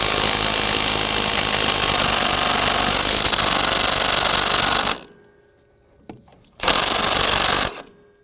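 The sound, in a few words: cordless impact wrench loosening a tight nut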